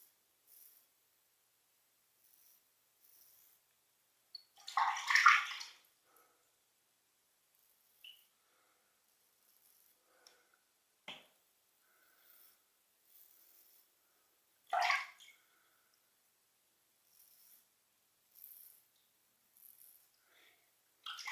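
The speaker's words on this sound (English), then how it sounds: "Seems to be cutting through the whisker." A razor scraping through whiskers over Kiehl's brushless shave cream, heard as a few short, faint, close strokes separated by long quiet gaps.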